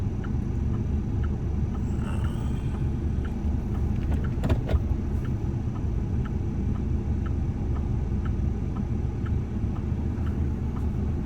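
Steady road rumble from a car cruising on a road trip, a continuous low hum with faint regular ticking layered on top and a brief swell partway through, no voices.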